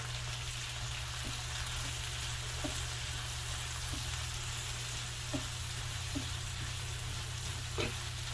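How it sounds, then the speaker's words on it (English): Blueberry sausage seasoned with cayenne cooks in a pan over medium-high heat, giving a steady, even sizzle with a few faint scrapes and knocks of stirring scattered through it. "we're cooking that on a medium high heat"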